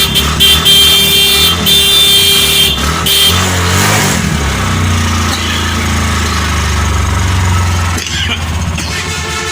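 A motorcycle engine kick-starts to life and settles into a low, rumbling idle, loud and close, with brief clatter and background noise.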